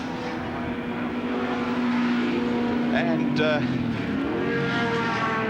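Group A touring cars racing at Winton circuit during round 1 of the 1985 Australian Touring Car Championship, a steady engine drone with a rising pitch sweep near the end, heard under a commentator's voice.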